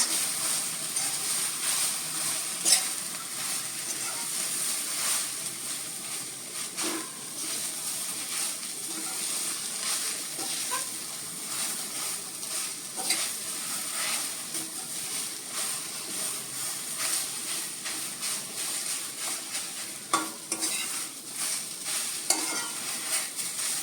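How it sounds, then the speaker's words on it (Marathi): Chopped colocasia leaves sauté in a hot oil tempering, a continuous sizzling hiss broken by repeated scraping and stirring strokes of a spatula against the pan, close and steady throughout. "हे अळू आपण आता या फोडणीवरती घालूया"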